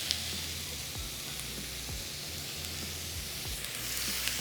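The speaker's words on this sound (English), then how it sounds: "put the onion in first and then the steak" Thinly sliced onion and ribeye steak fry in a hot pan with a continuous close hiss, and faint scrapes of stirring recur through the bright sizzle.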